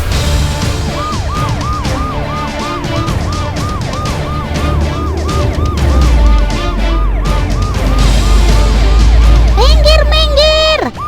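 An ambulance siren wails as it passes, its loud repeating rise-and-fall cycle running throughout, with a low vehicle rumble underneath that swells toward the end.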